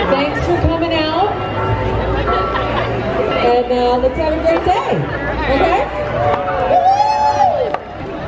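Large outdoor crowd gathered outside Coleman's pub in Syracuse for Green Beer Sunday, a steady babble of chatter and occasional cheers, with a nearby voice talking over the noise.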